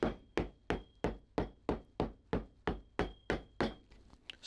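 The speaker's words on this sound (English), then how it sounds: "Seat it in with my hammer like this." Hammer tapping leather down to seat it into a Red Wing moc-toe boot sole during a wedge-to-lug resole; about fourteen sharp, evenly spaced close knocks in a steady rhythm, with no talking.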